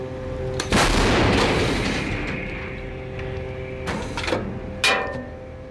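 A loud, booming artillery blast with a long rumbling decay, followed a few seconds later by two sharper, fainter bangs.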